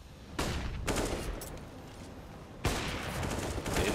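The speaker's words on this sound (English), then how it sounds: "nice cheeky frag from Fugly" Gunfire in Counter-Strike on the Overpass map during a competitive ECS match: two loud bursts of rapid shots, the first sustained for about two seconds, the second starting later and continuing to the end.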